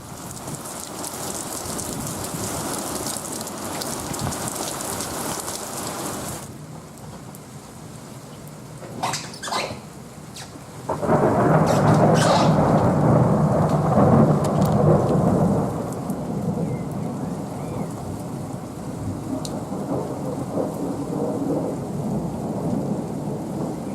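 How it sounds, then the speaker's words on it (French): A torrential downpour hisses heavily, drops away, and then a loud, close crack of thunder breaks into a long rolling rumble, with steady rain continuing underneath. "c'était vraiment de la pluie vraiment torrentielle"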